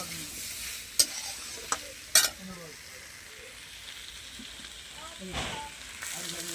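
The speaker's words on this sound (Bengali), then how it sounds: "ভালো করে নেড়ে চেড়ে কষিয়ে নিয়ে জল দিয়ে দেবো" A spice mix with turmeric is stirred and fried in a pan, giving a low, steady sizzle with a few sharp scraping clinks of the spoon against the pan and a brief soft hiss toward the end.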